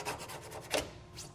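80 grit abrasive scrubs inside a groove of a 3D printed car body panel, a few quick raspy back-and-forth strokes, close and fairly quiet.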